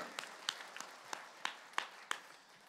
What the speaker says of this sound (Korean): 하나님께 박수로 영광 그리고 할렐루야.